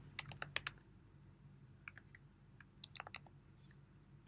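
Computer keyboard typing code, faint clusters of crisp key clicks in uneven bursts with pauses between, quiet and close, no talking.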